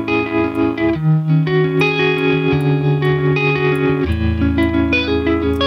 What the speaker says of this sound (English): you get that vintage Fender tremolo sound